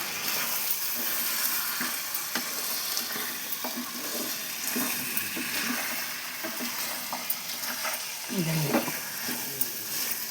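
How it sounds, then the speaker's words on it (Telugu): Mutton curry being stirred in a pan, with soft scraping and low sizzling through the mixture and a brief louder clatter near the end, no talk. "ఇలా ఒకసారి కలదిప్పండి."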